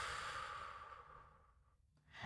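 A person breathes out slowly and fully during a guided breathing exercise; one long, soft, close exhale fades gradually, followed by the start of a fresh breath.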